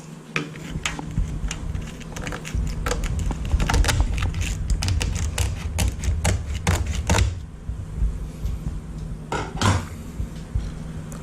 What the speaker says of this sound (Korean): 그럼 이제 가위로 한번 잘라볼게요